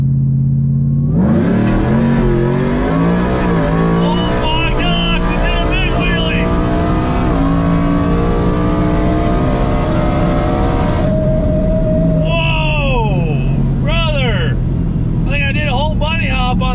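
A cheap drag-racing truck with poorly tuned suspension roars down the strip, its engine revving up through the gears loud and close, then shifting and revving again near the end, with voices talking over it.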